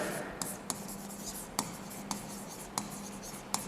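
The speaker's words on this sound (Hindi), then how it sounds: "तो इसका स्टेटमेंट लिखते हैं पहले।" A pen or chalk writing a physics statement by hand during a Gauss's law lesson, with a soft continuous scratching broken by a few sharp taps, close up and alone.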